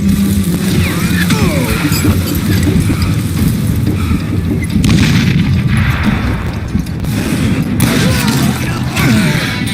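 Gunfire in the Western shooter game Call of Juarez, loud booming shots and blasts packed closely over a rumbling battle din, close and sustained.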